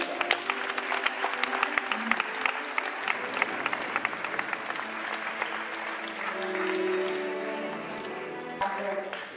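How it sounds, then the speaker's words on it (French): An audience claps continuously in a dense, lively burst of applause at an awards ceremony while a voice speaks over it in French. "Quel plaisir de vous accueillir sur les applaudissements de Nadia Fadi."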